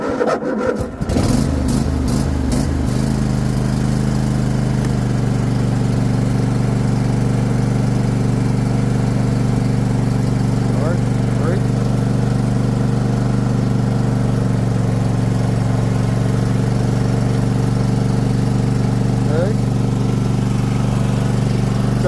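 A Craftsman T8000 lawn tractor engine with the choke on cranks and catches in the first few seconds, then settles into a loud, steady, close-up running drone that holds for the rest of the clip.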